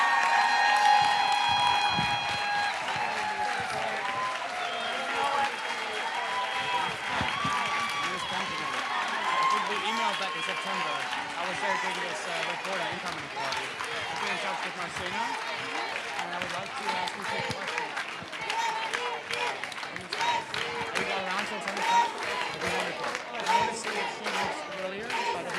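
A town hall audience gives the panel a long, sustained round of applause, with cheers and whoops mixed into the clapping and voices murmuring throughout, moderately loud and steady.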